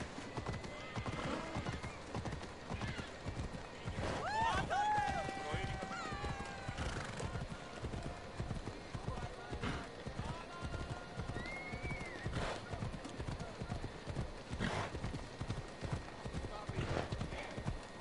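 A galloping horse in Assassin's Creed Odyssey, rapid rhythmic hoofbeats running throughout with a neigh partway through, under someone talking.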